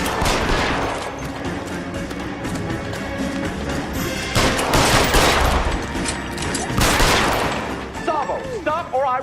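Chaotic gunfire rattles through a shootout in the video game L.A. Noire, dense bursts of shots layered over music and shouted voices, loud and busy with heavier volleys near the middle.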